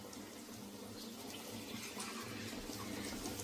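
Water being poured into a pan of stuffed bitter gourd curry, a short steady splashing stream close by.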